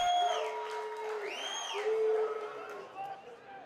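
Football fans of Hohenems cheering and whooping after a goal in a local match, a loud crowd roar with rising shouts and whistles, carried on a sustained hubbub.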